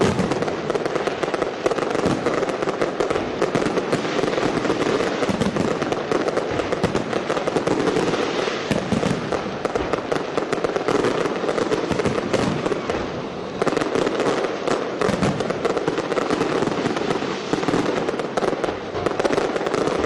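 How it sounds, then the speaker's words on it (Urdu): New Year fireworks at Liberty Chowk in Lahore crackle and bang continuously, a dense loud barrage of bursts and firecracker pops with crowd noise beneath, sustained throughout. "سردی کے باوجود انہوں نے آتش بازی سے خوب لطف اٹھایا۔"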